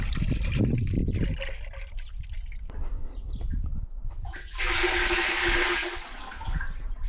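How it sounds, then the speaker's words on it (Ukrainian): Liquid adjuvant Oleomix 84 is poured from a can into a sprayer tank, giving gurgling, splashing bursts with a short pause and then a bright, rushing stream near the end, close and loud, with no talking. "Відкручуємо і наливаємо"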